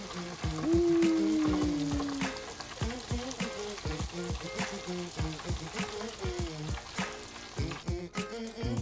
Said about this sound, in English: We're gonna let this fry up for about 6 to 8 minutes.